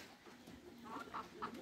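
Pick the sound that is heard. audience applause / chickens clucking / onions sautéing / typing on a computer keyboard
chickens clucking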